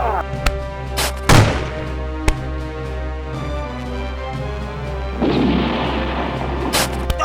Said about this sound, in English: The Texan cannons were turned against them. The shooting turned into fierce hand-to-hand fighting.